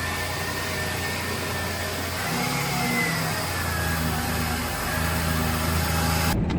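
The 3.0 engine of a 2001 Ford Ranger, just repaired for a timing cover leak, runs at a steady idle, a constant low hum with a slight rise in pitch partway through, close by and without talk.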